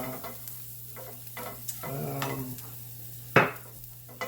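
Shallots sauté in a pan with a soft, even sizzle and a low steady hum, as a utensil stirs and scrapes in short strokes and gives one sharp clack near the end.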